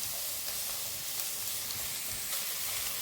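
A pot of ragi soup with vegetables is stirred over the heat, giving a steady, soft sizzling hiss with faint scraping throughout.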